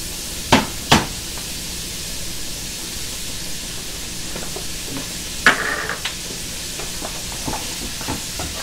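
Tomato penne sauce being stirred in a hot pan, with a steady soft sizzle beneath a few sharp utensil scrapes and knocks, and no one talking.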